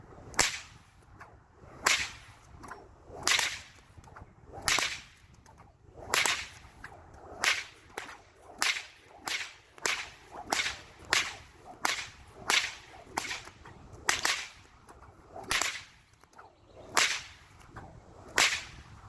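Sharp whip cracks repeat in a steady, driving rhythm, sometimes paired in quick doubles, loud and close with no talking.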